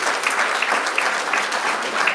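A meeting audience of real estate agents gives a round of applause, steady and even clapping that fills the room without a break.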